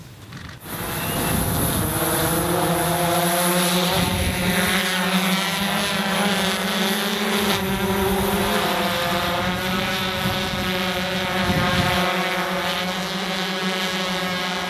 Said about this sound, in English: The drone uses the GPS and built-in camera to deliver the product to the drone delivery point.